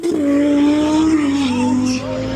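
A race car at a drag strip at Arad International Airport roars loudly up close, its engine note holding steady and then dropping in pitch as it pulls away.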